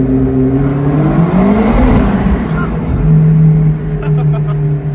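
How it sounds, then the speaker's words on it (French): A McLaren V8 burbles and revs through a reworked exhaust, a deep, loud, steady engine note with rising swells, close by, while someone talks over it. "Donc, vous voyez, on a une meilleure sonorité qui en émane de ce V8."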